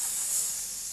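A voice imitates a hair straightener sizzling on sweaty hair, one short steady hiss, fairly loud and close, with nothing else around it.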